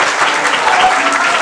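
An audience bursts into loud, close clapping, a brief dense round of many hands with a slight crowd murmur beneath.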